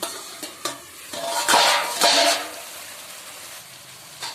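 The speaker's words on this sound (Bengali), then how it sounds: "এবার এই ডিমগুলোকে মশলার সাথে ভালো করে কষিয়ে নেব" Boiled eggs and fried potatoes being stirred into a spice masala in a pan: close spoon scrapes and clinks against the pan over a soft sizzle, with a louder burst of stirring midway.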